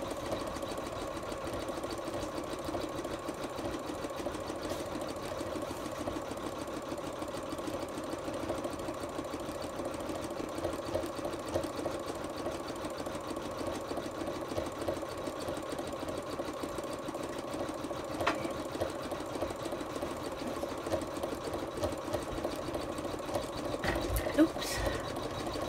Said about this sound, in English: Now you see it starts on the actual